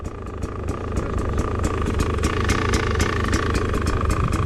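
Enduro motorcycle engine running steadily nearby on a trail, a continuous broadband rumble with faint rhythmic ticking, no talk over it.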